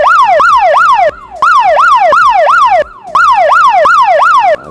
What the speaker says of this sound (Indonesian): Dimatikan seperti itu bunyi alarmnya.